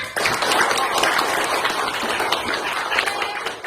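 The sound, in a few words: clapping hands for everyone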